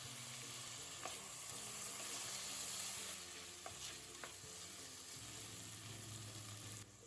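Spices and chopped tomato with asafoetida sizzle and fry in a hot pan while a utensil stirs and scrapes, with a few sharp clinks against the pan.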